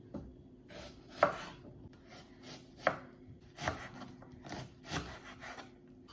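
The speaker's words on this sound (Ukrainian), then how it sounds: "Рібненько кубиками поріжу ось цю цибулину" A knife dices an onion on a cutting board in a steady series of crisp, close taps with pauses between, quiet and with no talking.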